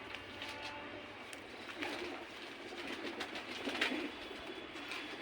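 Flown racing pigeons coo faintly inside a loft, a low continuous murmur under a hissy room background, with no one speaking.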